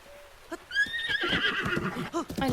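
Zelda's horse in Breath of the Wild gives a loud, close whinny with a rising then falling pitch, followed by snorting breaths and clip-clop steps.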